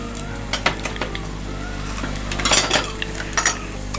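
Chana dal, urad dal and cumin sizzling in hot tempering oil, a steady crackling fry with spoon clinks and scrapes against the pan, a louder burst near the end, no voices.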